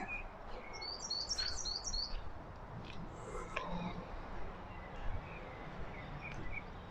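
Quick bird chirps and trills ring out in a cemetery near the start, then scattered softer calls continue over a quiet outdoor background.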